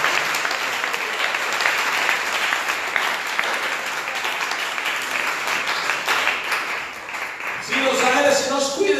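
A church congregation claps during a sermon, the applause sustained and fairly loud before fading near the end as a voice begins speaking.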